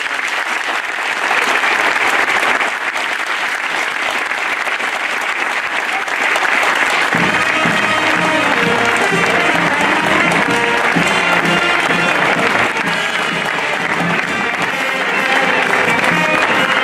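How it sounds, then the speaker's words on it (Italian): Sustained applause from a crowd at a parish procession for San Pietro Apostolo in Talanico, a dense continuous wash of clapping that keeps a steady level throughout. "facciamo un applauso ad Adriana"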